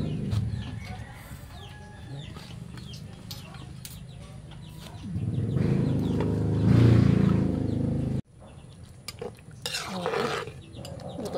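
Moringa leaves go into a pot of cooking vegetable dish with tuna, a soft rustling, stirring swell that builds mid-clip, while chickens cluck nearby throughout and a voice speaks briefly.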